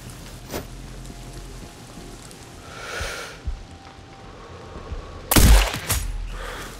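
A sharp, loud sniper rifle shot rings out in Sniper Ghost Warrior Contracts 2 near the end, following quieter ambient game noise and a few faint distant thuds.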